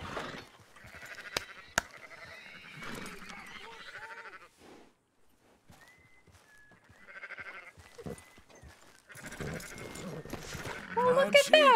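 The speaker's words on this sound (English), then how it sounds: "What sheep has discovered gate technology?" Video game sheep bleat in short, scattered calls amid game sounds and a voice talking over them.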